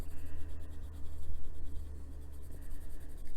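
Colored pencils blend and burnish on paper with a close, dry, rhythmic scratching of strokes that repeat in quick pulses.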